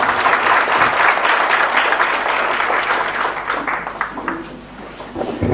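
Loud, dense applause from a congregation at a Catholic Mass in the Virgen del Carmen chapel in Ypané, sustained throughout and tapering slightly toward the end.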